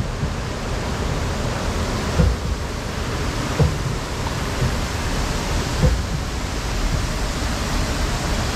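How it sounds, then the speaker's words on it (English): A waterfall by the Catapult Falls ride at SeaWorld San Antonio, Texas, roars as a steady, broad wash of falling water, loud and continuous with a few faint thumps and no talking. "Waterfalls right there, a couple geysers that go off at random."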